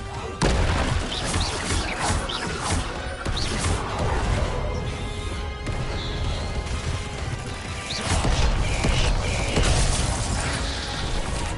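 Confringo spell blasts in a Hogwarts wizarding video game, loud crashing and shattering impacts amid ongoing combat noise, several bursts in quick succession, with little talk.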